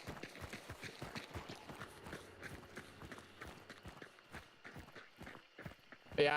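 Running footsteps from three players in a hunting video game patter in a quick, uneven rhythm, fairly quiet and close, continuing throughout with a louder bump at the very end.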